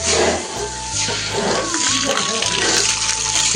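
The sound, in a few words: water being poured to soak pan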